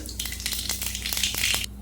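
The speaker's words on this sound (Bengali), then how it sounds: "তেলের উপর দিয়ে দেবো কালো জিরে" Black cumin seeds crackle and spit in hot oil in a wok, a close, bright sizzle with rapid pops and a few stirring scrapes, ending abruptly.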